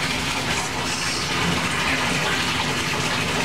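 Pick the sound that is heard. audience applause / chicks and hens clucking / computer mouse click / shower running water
shower running water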